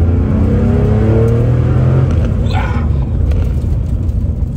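A 1974 Porsche 911 Carrera engine accelerating on the road from inside the car, a loud droning growl with the pitch climbing through the first two seconds before settling into a steady rumble and road noise.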